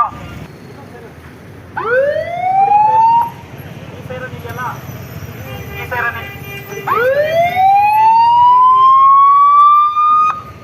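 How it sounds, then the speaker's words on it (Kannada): Two rising whoops of a police and fire service advance-warning siren during a wartime preparedness demonstration in Chikkanayakanahalli taluk, Karnataka, each sweeping upward and holding a high steady tone, separated by a pause with background noise and faint voices. "ಇದು ಸೈರನ್ ಇದೆಯಲ್ಲ ಈ ಸೈರನ್ ಹಾಕೊಂಡು ಬಂದ್ರೆ ಮೊದಲೇ ಮುನ್ಸೂಚನೆ"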